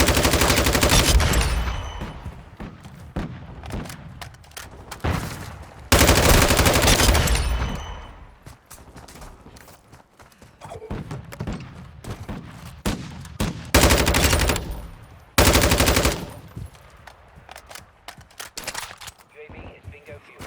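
Bursts of automatic gunfire from a video game, likely including a Signal 50, come in several loud broadband volleys separated by quieter stretches with game sounds and a voice talking.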